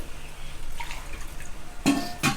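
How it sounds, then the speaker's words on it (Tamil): Water is poured into a mixer jar in a home kitchen while making mutton kulambu, a short faint trickle followed by two brief splashy bursts near the end. "இப்போ மிக்சி சாரில் கொஞ்சம் தண்ணி விட்டு"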